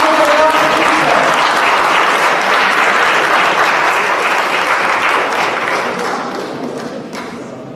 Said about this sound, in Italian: Prego, applauso per la regista.